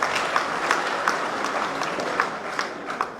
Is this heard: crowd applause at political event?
yes